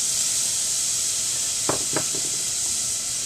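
Chopped onion and celery sautéing in a pan for acorn squash soup, a steady bright hiss of sizzling with a couple of soft utensil taps partway through.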